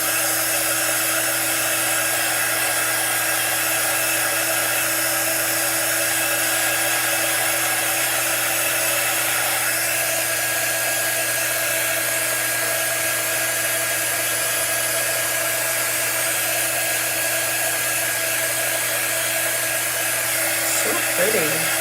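A hair dryer runs loud and continuous, blowing on a wet chalk design; the steady whine holds for the whole stretch with no pause and no speech over it.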